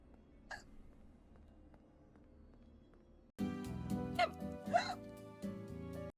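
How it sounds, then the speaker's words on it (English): Several short hiccups from a streamer, an isolated one early on, then a louder cluster of two or three as background music starts up. "I don't know why I have hiccups today."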